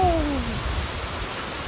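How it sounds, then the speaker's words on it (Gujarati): Steady rain hisses throughout, with a brief falling tonal whine near the start that fades as the downpour continues alone. "હા જો વરસાદ છે"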